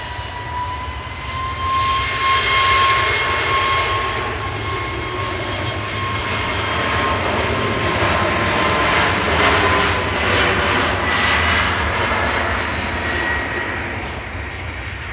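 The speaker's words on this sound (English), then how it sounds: "Ryanair to Dublin, flight 553" A Ryanair Boeing 737 MAX 8200 takes off from Manchester Airport for Dublin, its loud jet engines roaring steadily with a whining tone, swelling toward the middle and holding strong throughout.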